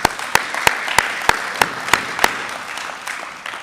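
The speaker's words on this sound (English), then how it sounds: "Let's give them another round of applause." Applause from the audience at a Burlington Democrats nominating caucus, with a few loud, distinct claps standing out over steady crowd clapping that fades toward the end.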